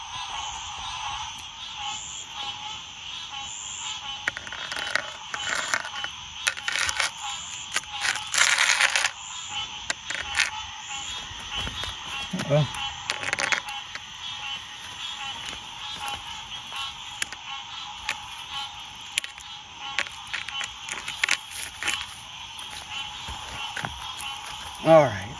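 A chorus of frogs trills and chirps steadily through the night air, with brief human voices breaking in now and then.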